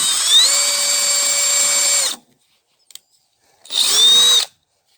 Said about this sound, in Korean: 구멍을 미리 뚫습니다.